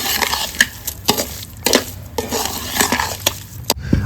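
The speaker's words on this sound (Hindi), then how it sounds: "तो चीनी को पहले अंदर कर लेते हैं जी मिक्स" Sugar being stirred into a cooking mixture in a pot, with repeated scraping and clinking strokes of a spoon against the metal in an irregular rhythm, close and moderately loud.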